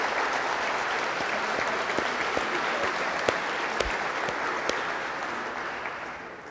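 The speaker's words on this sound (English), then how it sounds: "How about a round of applause for these distinguished warriors?" Guests at a U.S. Navy reception honoring Fleet Week applaud military commanders, a moderately distant, steady round of many hands clapping that tapers off softly toward the end.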